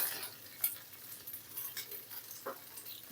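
Egg frying in a pan gives a quiet, steady sizzle, and a utensil scrapes and clinks as it stirs now and then, with no one speaking.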